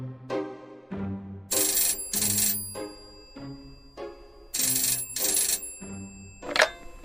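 A telephone rings in a Zelda Ocarina of Time parody, its electronic ringtone sounding in repeated bright bursts of about a second each, loud and close with no voices.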